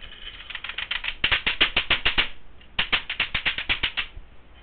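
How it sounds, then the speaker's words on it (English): A computer keyboard being hit hard during a frustrating game: two rapid bursts of sharp, clattering key strikes, close and loud, with a short pause between them and no talking. "hitting my keyboard will not make the game"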